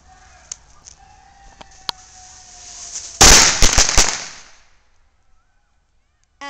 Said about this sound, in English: Here's our firecrackers.